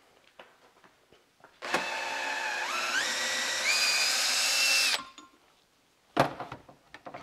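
During an old-school valve job, a reamer driven by a power tool works through cylinder head valve guides: a loud, steady whirring lasting about three seconds that rises in pitch partway through, then stops, followed by a couple of sharp metallic knocks.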